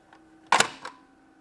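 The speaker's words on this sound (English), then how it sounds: "Here we have a key to lock the cash register." A key turns in the lock of a toy McDonald's cash register, giving a short plastic click-clack of two quick snaps, close and fairly quiet, over a faint steady hum.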